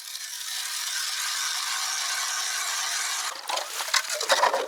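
Hand-drilling a hole through lake ice outdoors while hunting, a steady high grinding scrape of the auger biting the ice that breaks into rougher, uneven crunching chips toward the end, close and fairly loud with no talk.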